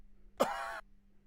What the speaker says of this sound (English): Let's add this cough into this one.